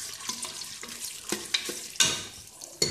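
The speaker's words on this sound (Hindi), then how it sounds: "नई प्याज है इसको हम इसमें ऐड कर हल्का गोल्डन ब्राउन होने तक इसको फ्राई करेंगे प्याज को" Freshly sliced onions fry in hot oil toward golden brown, sizzling close up while a spoon scrapes and stirs with several sharp clinks against the pan.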